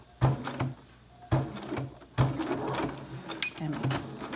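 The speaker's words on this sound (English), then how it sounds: "I'm going to do a straight stitch all the way down" Sewing machine running a straight stitch down a washable fabric filter face mask, in three short bursts with pauses between them, fairly close, while a person talks over parts of it.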